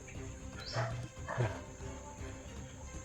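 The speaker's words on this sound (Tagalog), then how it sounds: "Tapos may aso." A dog barks twice in short bursts at a moderate distance, with quiet background noise in between.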